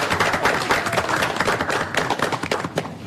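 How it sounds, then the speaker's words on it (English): A room full of people at a school committee meeting claps steadily, dense overlapping applause that holds at an even level throughout. "I think we should give all the Spotlight winners a round of applause."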